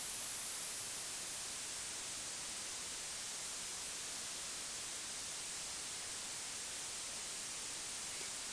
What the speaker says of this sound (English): some kind of hi-hat based off of white noise and suddenly go, whoop, just to make it sound different